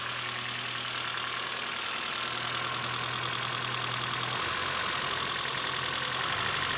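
A 1973 Toyota Hilux with a carbureted engine runs steadily just after start-up, a continuous, loud, rough idle with a faint knocking texture that holds unchanged throughout, with no talking.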